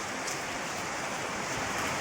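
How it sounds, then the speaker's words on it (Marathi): Dense, steady rain hisses down, a continuous wash of falling drops with no voices. "मोठं पाऊस पडतंय बघा"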